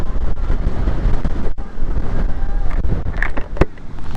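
Strong wind buffets the microphone atop Zurich Hill in Malico, San Nicolas, Pangasinan, a steady loud roar with brief gusty dips, no voices over it.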